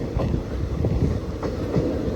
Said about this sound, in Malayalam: ഇപ്പോൾ ട്രെയിനിൻ്റെ 1ാമത്തെ പ്ലാറ്റ്ഫോമിലേക്ക് കയറിക്കൊണ്ടിരിക്കുകയാണ്